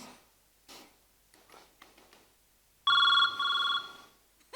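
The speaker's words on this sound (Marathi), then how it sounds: "तुमचा फोन वाजतोय." A mobile phone rings after a quiet stretch with faint scattered noises, giving two loud electronic tone bursts of a bright, steady ringtone.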